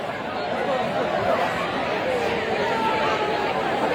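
Dense chatter of a large crowd of university students, a steady wash of overlapping voices with no single voice standing out, continuous for the whole stretch.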